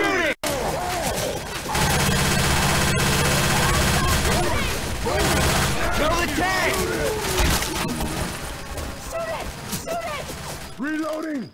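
Shooting in the zombie game Left 4 Dead 2, with dense, loud volleys of gunfire and clanking impacts through most of the stretch, under chaotic game noise and bursts of voices.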